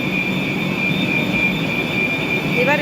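A train at Dongdaemun Station in Seoul gives a steady, loud rumble with a high whine running through it, and a brief rising metallic squeal comes near the end.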